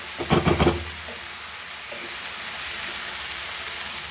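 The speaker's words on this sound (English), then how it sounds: "Add our dal. And fry this" Dal frying in a pan for Goan banana flower bhaji gives a steady, soft sizzle and hiss that runs throughout, opening with a few quick stirring scrapes near the start.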